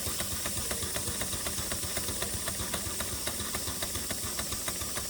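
A large authentic mill steam engine named Tina runs on steam at low boiler pressure, giving a steady rhythmic chuff and knock over a constant hiss, close and moderately loud with no talk.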